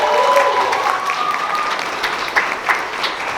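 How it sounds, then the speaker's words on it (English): Steady audience applause at a steampunk festival costume contest, honoring the judges, a dense wash of many hands clapping at moderate volume with a few louder claps standing out. "Give them a round of applause."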